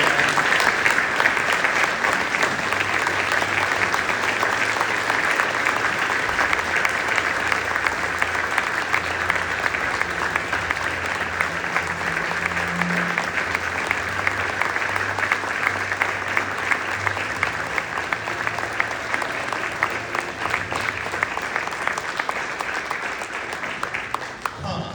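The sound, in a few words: audience applause for award winner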